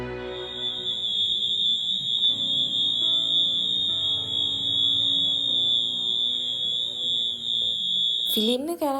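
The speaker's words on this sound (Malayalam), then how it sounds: "അപ്പോൾ പെട്ടെന്ന് അലാറം അടിച്ച്" An automatic alarm in a cinema waiting area sounds as a loud, unbroken high-pitched electronic tone for about eight seconds over a murmuring crowd, then cuts off abruptly.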